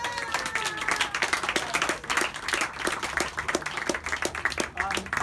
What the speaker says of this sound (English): let's give a big round of applause for the Friends of the Fells